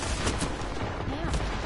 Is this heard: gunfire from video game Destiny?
yes